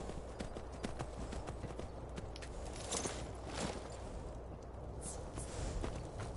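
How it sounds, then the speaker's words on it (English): Horse hooves clip-clop in Skyrim as the animal walks, with irregular hoofbeats at moderate distance over low ambient game sound. "That horse is probably gonna end up walking away."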